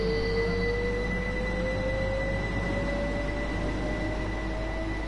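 Another train passes in the game Train Sim World on the East Coastway line near Berwick, a steady rumbling wash with sustained tonal whines and a slowly rising pitch, continuous and fairly even throughout.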